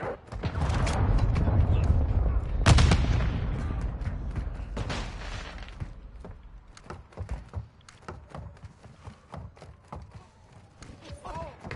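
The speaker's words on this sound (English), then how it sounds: "Friendly cruise missile approaching target." A cruise missile strike in Modern Warfare 2 delivers a loud, rumbling impact with a sharp blast near the start, then fades into scattered cracks and crumbling debris under game voices.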